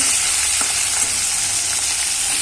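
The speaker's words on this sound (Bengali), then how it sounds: "ভেন্ডিটাকে ভালো করে একটু ভেজে নেবো। লঙ্কা দিয়ে দিয়েছি কিছু, একসাথে ভেজে নেবো সব কিছুকে।" Okra and green chillies frying together in a pan, a loud, constant close-up sizzle with faint stirring scrapes and no voices.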